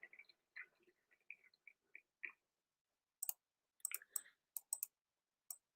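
A computer mouse gives quick, sparse clicks, close by and faint, in small irregular groups against silence.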